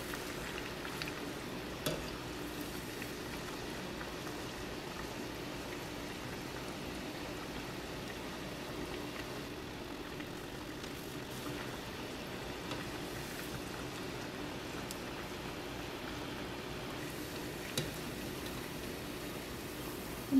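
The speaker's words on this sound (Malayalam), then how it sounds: "നല്ല ബ്രൗൺ ആവുന്ന വരെ നമുക്ക് ഫ്രൈ ചെയ്തെടുക്കാം." Cabbage vada deep-frying in hot oil, a continuous soft bubbling sizzle that stays even and fairly quiet throughout, with a few faint clicks and no voices.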